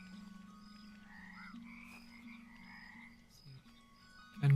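Frogs in the frog management sim Mudborne keep up a steady low croaking drone with soft higher chirps, ending on a short louder croak.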